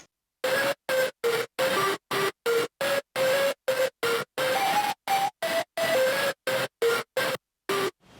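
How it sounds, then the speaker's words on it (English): Metalcore synth lead played alone, short staccato stabs in a fast rhythmic pattern with clear gaps between hits, the pitch stepping up and down across about a dozen notes. "So I'll show you what this lead sounds like by itself."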